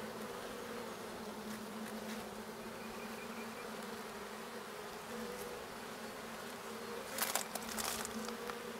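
A soft, steady buzz of honeybees surrounds an open hive during a spring inspection. The hum is continuous and faint, with a few brief crackles near the end.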